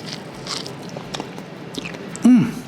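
A single crunchy bite into crispy seasoned corn ribs, one loud close snap near the end, with light background noise before it.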